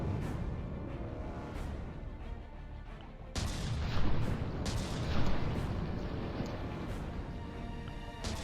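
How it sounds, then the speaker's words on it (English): Ship weapons in the From the Depths naval combat game fire in a rapid, irregular barrage of heavy booms and cracks, growing denser and louder midway with a few bigger blasts standing out, with no voices. "But the Klinken is still firing."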